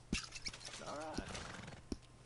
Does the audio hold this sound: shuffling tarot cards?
no